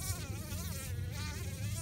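A bee and a wasp fighting make a steady, close, intense buzzing drone with a wavering pitch that continues throughout, with no voices.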